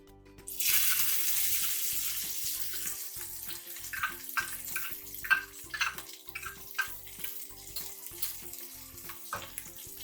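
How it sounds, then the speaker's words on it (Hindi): Onion, green chili and tomato hit hot oil with a sudden loud hiss that settles into a steady close sizzle, with scattered pops and crackles throughout. "अब हम इसमें प्याज, हरी मिर्च और टमाटर डालेंगे।"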